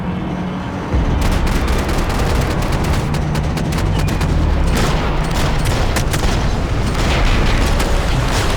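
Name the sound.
gunfire in the video game Max Payne 3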